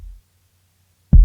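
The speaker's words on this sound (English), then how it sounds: "Just a regular kick." A dry kick drum with no reverb, sampled for an album track: one short, deep, punchy hit near the end of an otherwise near-silent stretch, with a faint low tail just before it.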